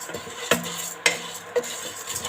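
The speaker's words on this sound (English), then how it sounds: "And then I'm going to fry just the lentils a bit." Lentils being stirred in a pan while frying, with three sharp metallic scrapes of a utensil against the pan over a soft background sizzle.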